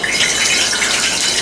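Water drops hit hot frying oil in a skillet, giving a loud, continuous crackling sizzle with a bright hiss that stays steady throughout, with no talking.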